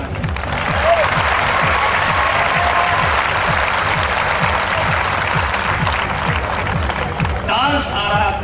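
Dense, steady applause from a large crowd at a Wagah border Independence Day celebration, loud and continuous throughout, with a voice and whistles rising briefly near the end.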